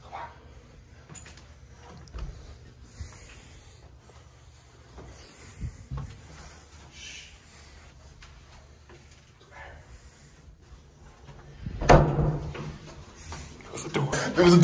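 A door opens or closes in a hotel room with a sudden thump and rattle near the end, preceded by quieter shuffling and creaks while people talk in low voices.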